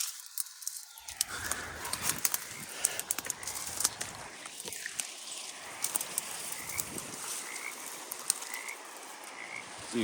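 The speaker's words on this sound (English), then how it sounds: "See, I can hear the frogs" Frogs croak steadily in an outdoor spot beside still-high water, a dense chorus of rough calls at mid distance, with scattered rustles and a few brief bird chirps.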